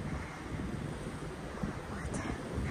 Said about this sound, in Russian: Но ветер такой неприятный